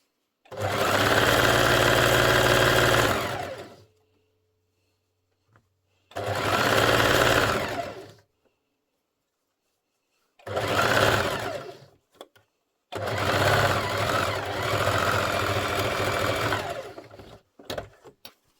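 A sewing machine stitches jetted pockets in four long bursts of rapid, even mechanical whirring, each lasting a few seconds, separated by silent pauses, with a short final flicker at the end.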